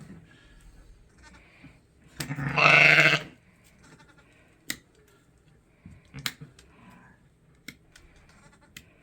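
Lambs on a sheep farm give one loud, drawn-out bleat close by, followed by scattered faint clicks and small knocks in an otherwise quiet barn.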